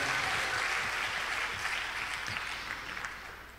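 A church congregation applauds during a worship service, a dense, steady wash of clapping that carries through the whole stretch and fades slightly toward the end, with no voices over it.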